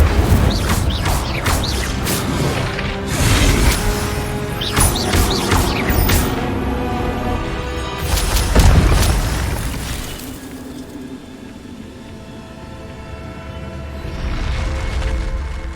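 Several loud magical bursts and whooshing blasts from the Incendio fire spell in Hogwarts Legacy, crackling flares rising and fading across the scene amid game ambience, with quieter stretches between the casts.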